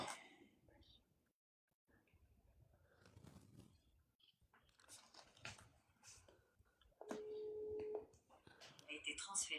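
A phone call rings out and is transferred to voicemail, with a steady electronic tone briefly sounding near the end amid quiet, whispery French talk and room noise.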